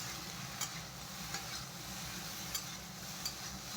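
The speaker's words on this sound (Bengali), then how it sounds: "এই মশলাটা দিয়ে একটু ভেজে নিই।" A vegetable curry fries quietly in a kadai with chili powder and meat masala. A soft, even sizzle carries on throughout, with a few faint scraping taps of the spoon.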